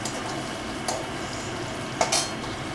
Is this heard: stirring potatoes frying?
yes